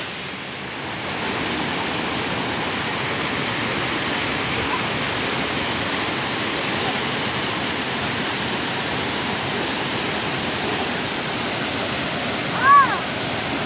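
Bega Falls in Agusan del Sur, a steady broadband roar of falling water that runs unbroken throughout, with a brief faint tonal chirp near the end.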